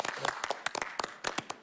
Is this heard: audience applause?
yes